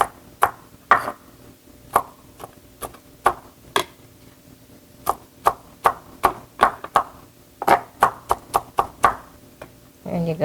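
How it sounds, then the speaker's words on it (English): A knife chopping soft cooked noodles on a board for steamed bun filling, crisp, close taps in quick irregular clusters separated by short pauses. "You chop it small like this too."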